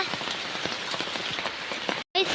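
Heavy rain pours steadily on a wet day outdoors in Pathanamthitta, Kerala, a dense continuous hiss with scattered drop impacts, cut off by a brief silence near the end before resuming.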